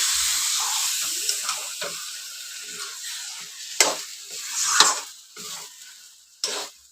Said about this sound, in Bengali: এই যে মশলাটা হয়ে গেছে, এবার চিকেনটা দিয়ে দিচ্ছি।